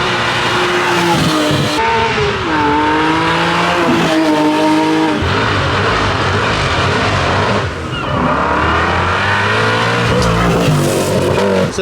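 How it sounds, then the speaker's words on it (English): A Porsche GT3 RS screams up a hill climb course, its engine revving hard with rising and falling gear-change sweeps and some tire squeal, loud and close throughout with no talking. "A lovely GT3 RS."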